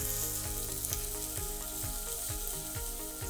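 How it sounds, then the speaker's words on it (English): Vegetables fry gently in oil for a vegetable tagine with chickpeas, giving a steady close sizzle broken by regular soft pulses of stirring. "We need to fry this gently without burning the oil"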